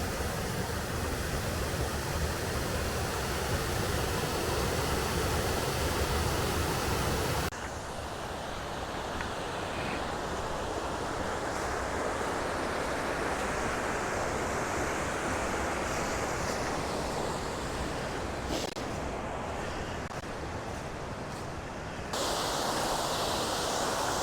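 Steady, full broadband rush of a waterfall on the Piney River Trail, loud and continuous, with a brief shift in tone partway through as if the position changes.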